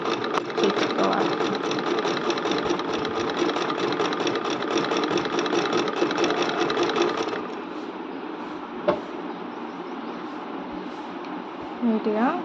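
A sewing machine stitches a fall onto a saree with a fast, even mechanical whirr for several seconds, then stops. Soft handling noises and a brief click follow.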